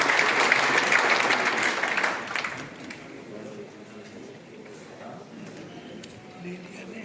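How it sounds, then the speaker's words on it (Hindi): Applause at a state assembly meeting in Rajasthan rises strongly at first and fades after a couple of seconds, leaving room murmur and a speaking voice. "इस कार्यक्रम के लिए एक बार जोरदार सभी से तालियों की अपील करूंगा"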